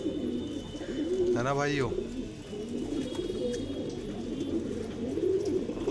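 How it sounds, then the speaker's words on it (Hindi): A pigeon's soft, low coo rises briefly over steady background noise, while someone talks nearby. "ये वाला कबूतर आया है भाइयों"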